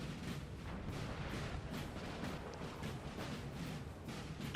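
Artillery fire from 12-pounder guns in a Napoleon: Total War battle, a dense stream of rapid booming shots layered over a constant rumble, fairly faint and distant.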